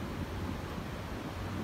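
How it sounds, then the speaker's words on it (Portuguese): Broad, steady wind roar buffets the microphone on a cool, gusty morning at Praia Grande beach, a constant low rushing with no voices. "ventando bastante"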